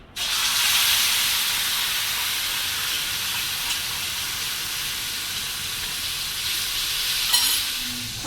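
A spice paste hits hot oil with mustard seeds, cumin, asafoetida and turmeric for a Gujarati sev-onion curry, a loud, steady close-up sizzle and hiss that fills the whole stretch with a faint clink near the end.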